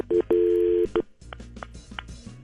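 Electronic telephone keypad tones: a few steady beeps, one long and two short, followed by quiet room noise with faint clicks.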